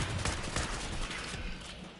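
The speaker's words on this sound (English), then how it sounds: "It's that damn minigun, not minigun, but that old Gatling." Old Gatling gun firing in Fallout 4, a rapid rattling burst of shots at moderate distance, fading out toward the end.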